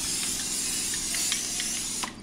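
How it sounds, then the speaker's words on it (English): Oil spray hissing onto a hot pancake griddle, a steady loud spray lasting about two seconds with faint sizzling clicks, then trailing off. "And now we got to spray it with some oil spray."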